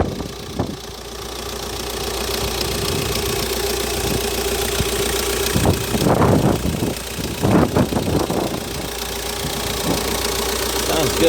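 Hyundai Terracan JX250 4WD with a manual gearbox and a slightly rusty engine bay, idling with the hood open. A steady low mechanical hum runs throughout, with a few brief louder bursts near the middle.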